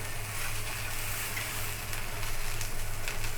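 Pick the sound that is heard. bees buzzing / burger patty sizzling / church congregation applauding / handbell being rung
burger patty sizzling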